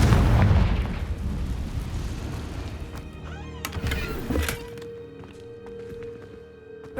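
A Confringo fire spell goes off in the Hogwarts Legacy video game as a booming blast, trailing into crackling debris and game sound effects that fade to a quieter ambient tone.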